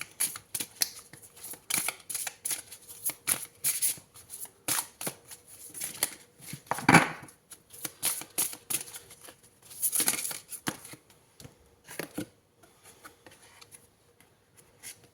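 Tarot cards being shuffled and handled during a card reading, a run of soft papery riffles and rubs with a few louder slaps, close and alone without talk.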